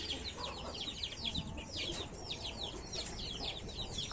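Chickens and a rooster clucking around a cage, many overlapping rapid clucks and squawks continuing throughout at moderate distance.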